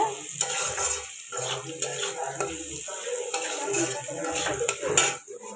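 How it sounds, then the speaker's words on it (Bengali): Carrots fry in a home kitchen pan for egg chowmin, with a steady sizzle broken by repeated scrapes and clinks of a metal spatula stirring against the pan. "আমি আলুটাকে ভেজে নিয়েছি এবার গাজরটা ভাজা হচ্ছে"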